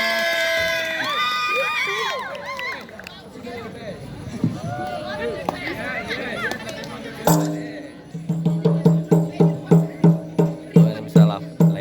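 A crowd of Sabang supporters at a scout camp event shouts and cheers loudly, with children's voices prominent, then breaks into a steady rhythmic chant with regular beats toward the end.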